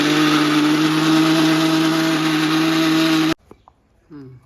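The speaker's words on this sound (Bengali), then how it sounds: "আমি ওকে আবার বলে দিয়েছি যে আমি মিক্সি চালাচ্ছি" A mixer grinder running in a home kitchen, a loud steady motor whine and whir close by for about three seconds before it abruptly stops, followed by faint clatter and a voice.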